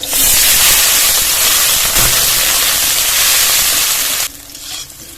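Cut potato frying in hot mustard oil with black cumin and slit green chilli, a loud close hissing sizzle that holds steady for about four seconds, then drops suddenly to a quieter simmer.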